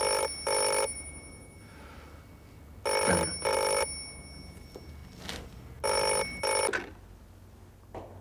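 A telephone bell rings in three loud double bursts, each pair a quick brrring-brrring with pauses between, over a quiet room.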